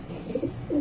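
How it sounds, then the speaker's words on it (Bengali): Imported pigeons kept at home give low, soft coos in a short burst, two murmuring calls close by over faint background hiss, with no talking. "বাসায় নতুন পিজন নিয়ে আসছি।"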